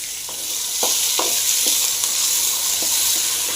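Onion and salt frying in hot oil with mustard seeds in a pan while preparing an agathi keerai egg dish: a steady close sizzle broken by several scraping stirs of a spatula, with no talking.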